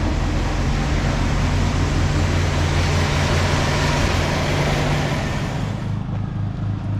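A junkyard Pontiac Sunbird engine idles rich with a sticky choke, blowing black smoke; a steady, loud, broadband rumble with a low droning hum that continues throughout, easing slightly near the end.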